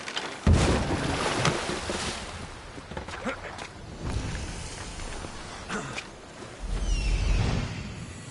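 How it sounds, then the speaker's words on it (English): A tiny boat sails across the open sea in the video game Assassin's Creed Odyssey, with continuous wind and water wash, splashing surges and broad swells of surf that rise and fall around the hull. "Head into the house of Odysseus on a tiny boat"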